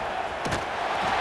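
Stadium crowd noise from the video game College Football 26, a steady broad roar of fans with a couple of brief swelling cheers, loud and continuous with no speech over it.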